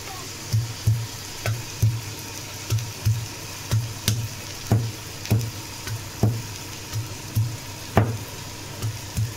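Onion and garlic sauté in a pan, a steady sizzle broken by rhythmic stirring strokes roughly every half second, close and moderately loud without speech.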